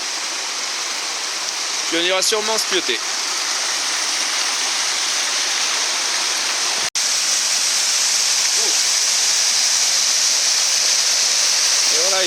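A small mountain stream in the Alps rushes steadily with a loud, continuous hiss of flowing water, while someone speaks briefly over it near the start.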